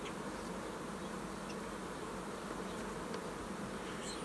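Honey bees crawl and hum on a frame lifted from a queenless starter colony, making a continuous soft, close buzzing with no voices.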